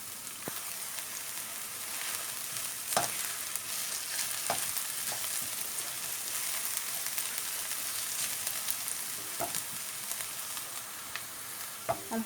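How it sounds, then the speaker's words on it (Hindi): Onions sizzle in a little oil in a pot, a steady frying hiss with occasional sharper crackles and stirring clicks, close and continuous with no voices. "इसमें ये थोड़ा सा ऑयल डाला है, और इसमें डालेंगे ऑनियन"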